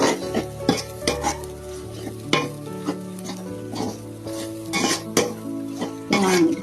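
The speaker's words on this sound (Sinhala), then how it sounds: "දැන් අපි මේක මෙන්න මෙහෙම කලවම් කරමු." Kottu roti stirred and mixed in a hot pan: repeated metallic scrapes and clanks of a utensil against the pan over a continuous sizzle, close and fairly loud, with a brief spoken phrase.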